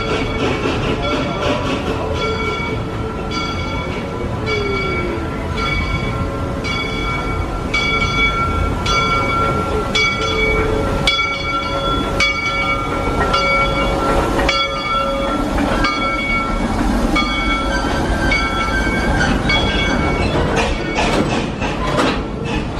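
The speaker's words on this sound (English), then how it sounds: "Green train. Oh, they even have caboose." An amusement park train at Worlds of Fun rolls past close by for over twenty seconds, with a steady rumble, rhythmic rail clicks and metallic squeals, and no talking.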